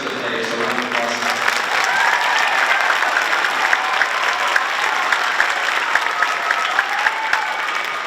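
An audience at a school district string festival concert applauds steadily, a thick wash of clapping with faint tonal sounds beneath it early on, holding even throughout.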